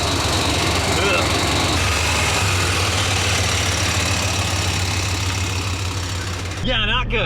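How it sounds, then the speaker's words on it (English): A vintage Chevy conversion van runs in its engine bay with a steady, loud mechanical clatter and knocking that continues for about seven seconds, then cuts off abruptly near the end. "once this van warms up, whatever noise that is, but I don't think it's the engine, it's like the power steering or some accessory, it goes away"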